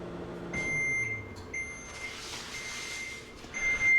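Microwave oven finishing a heating cycle, giving a few loud, clear electronic beeps at intervals, close by in a quiet kitchen with no talking.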